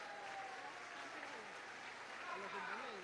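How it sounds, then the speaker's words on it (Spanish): Applause from an audience at a political assembly in Barquisimeto, faint and steady, with a voice speaking over it. "Un aplauso para Blanca también"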